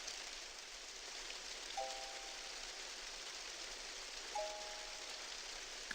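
Steady soft rain patters in the Animal Crossing: New Leaf town square, a constant gentle wash with two brief chime-like tones drifting over it.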